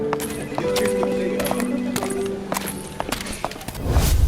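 Donkey hooves clip-clop in a steady walking rhythm, close and clear, with other sounds mixed in and a louder burst of noise at the end.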